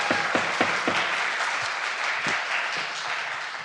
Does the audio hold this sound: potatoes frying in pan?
no